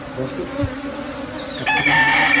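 A swarm of honey bees gathered into a basket tied to a mango tree branch about ten feet up hums as a dense, steady buzz close by, with a rooster crowing nearby.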